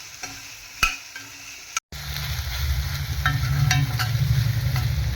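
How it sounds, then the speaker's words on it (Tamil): Raw tomato and coconut mixture sautéing in a pan, with a brief spoon stir and clatter early on, then a steady, close sizzle that grows louder and fills the rest of the stretch with no talking. "இது போல் நல்லா வதக்கிட்டு"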